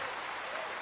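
Basketball arena crowd applauds a made free throw at a B.League game between Utsunomiya Brex and Alvark Tokyo; a brief, steady, dense wash of clapping fills the whole moment.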